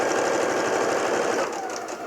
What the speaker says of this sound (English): we're just going to stitch down that pencil line